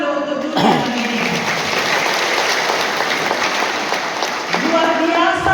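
Applause breaks out at a Christmas and New Year thanksgiving gathering, a full crowd clapping steadily beneath tonal music, with a short burst of sustained notes before and after.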